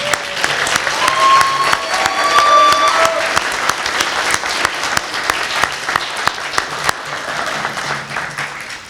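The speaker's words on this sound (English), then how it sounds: "let's give this group one big round of applause." An audience bursts into loud applause at a police swearing-in ceremony, clapping steadily for several seconds under a few brief voices before the clapping thins out.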